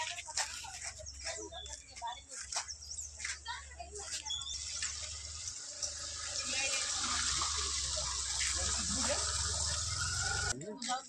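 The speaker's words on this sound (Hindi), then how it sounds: "पानी पड़ुची" Water pouring and splashing in a village drain with drainage problems, rising to a steady loud rush in the second half, with people talking and clattering sounds early on.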